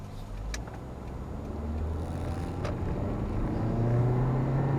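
A 2003 Toyota Corolla CE with a naturally aspirated 1.8-liter four-cylinder drives along, its low engine hum steady from inside the car and rising gently as it picks up speed.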